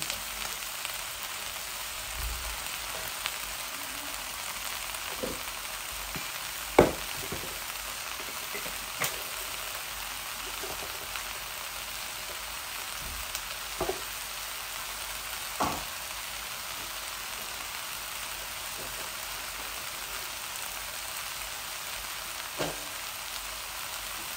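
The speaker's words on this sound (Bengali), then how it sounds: "এগুলা আরো একটু ভাজবো আমি" Bottle gourd shoots frying in about a tablespoon of white oil give a steady, even sizzle, broken by occasional soft taps of stirring.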